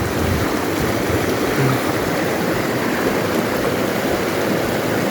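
A river in the Peruvian highlands streams steadily over algae-covered rocks, giving a loud, continuous broadband rush with no breaks and no voices.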